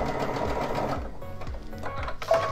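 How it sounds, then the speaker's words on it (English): Baby Lock Altair sewing machine stitching a diagonal seam, a steady rapid mechanical whir with rhythmic needle thumps, close and alone. "just go ahead and start sewing"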